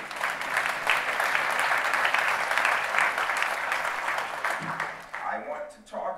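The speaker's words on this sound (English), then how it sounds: "give her a round of applause for the portrait" Audience applause in a university hall at Duke for a portrait, steady dense clapping that fills the room for about five seconds before thinning out near the end.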